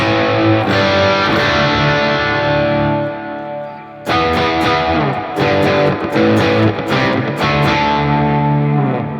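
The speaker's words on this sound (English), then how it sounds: "with the right distortion pedal, you could have a great time with this thing" Heavily distorted Ibanez AZ electric guitar through a distortion pedal playing sustained chords, a brief drop near the middle, then choppy rhythmic strums with sharp stops, loud and saturated.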